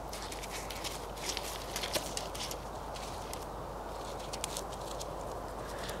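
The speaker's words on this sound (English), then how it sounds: "Yep, one of the horses." A horse walks up close through an outdoor spot, soft irregular hoof thuds and footsteps over a steady faint background hiss, no talking.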